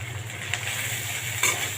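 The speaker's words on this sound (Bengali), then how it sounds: "মশলাটা ভাজা ভাজা হয়ে গেছে" Turmeric, salt and a ground ginger-cumin paste frying in hot oil give a steady soft sizzle, with two brief brighter crackles partway through and no talking.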